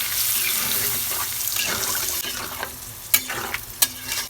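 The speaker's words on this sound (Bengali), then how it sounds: "এখন আমি ঝোলের জন্য পানি দিয়ে দিচ্ছি।" Water poured into cooked-down meat for a curry gravy rushes and splashes against a sizzle, followed by several sharp stirring clinks toward the end, with no talking.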